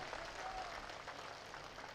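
Steady applause from a large crowd at a Congress party political rally during the Rajasthan assembly election campaign, sustained and fairly distant with no talk over it.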